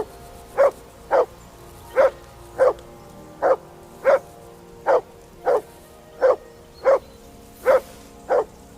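A dog in a medieval-style RPG barks in a steady series of about thirteen evenly spaced, sharp barks, close and loud, with no voices.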